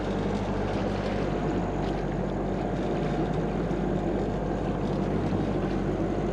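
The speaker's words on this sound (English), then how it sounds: "that boat's coming alongside" Steady, loud engine drone with constant low rumble and wash of water noise as a motorboat comes alongside a sailboat off Newfoundland, running without letting up.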